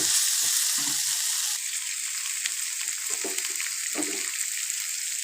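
Onions sauté with salt in a pan for ragi roti and brinjal palya, giving a loud, continuous sizzle with occasional scraping stirs.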